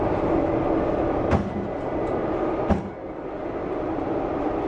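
A moving subway train produces a loud, steady roar and rumble from inside the carriage, broken by two sharp thuds of someone kicking, with no voices heard.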